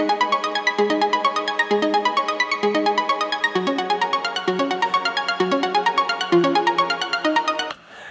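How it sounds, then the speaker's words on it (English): A step-sequenced synthesizer arpeggio for a trance track repeats bright, plucky notes one by one in a steady looping pattern, clear and alone, before cutting off near the end. "I came up with, an arpeggio that sounds a bit like this"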